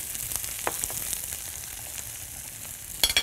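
Diced onions sizzle in a tray set over an open flame, a steady hissing fry with faint crackles, ending with a short burst of louder scraping or clatter.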